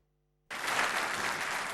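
Applause greets the Prime Minister: after a moment of silence, a dense, even wash of crowd clapping starts abruptly and holds steady, moderately loud.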